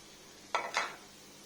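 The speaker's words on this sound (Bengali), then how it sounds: "এখন পেঁয়াজটা দিয়ে দিলাম কড়াইতে।" Chopped onion tipped into a hot karai while pigeon meat is being cooked, giving two quick close bursts of rustling, crackling sound about a quarter second apart, then quiet.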